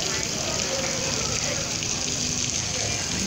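Sculpture fountain at a shopping mall, water splashing and pattering steadily like rain onto umbrella-shaped forms, a continuous close hiss of falling water with no talk.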